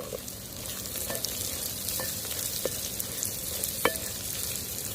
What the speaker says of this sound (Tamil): இப்போ வெங்காயத்தை நல்லா வதக்கணும்.